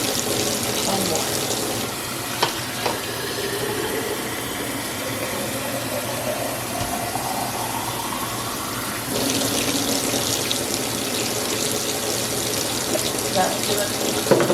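Hot tap water gushing steadily into a large canning pot in a kitchen while making strawberry jam, a continuous close splashing rush that deepens in tone as the pot fills.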